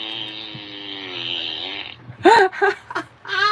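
A 2023 Coral Furby toy plays a fart sound: a long, buzzy, wavering tone, then short sputtering bursts, loud and close.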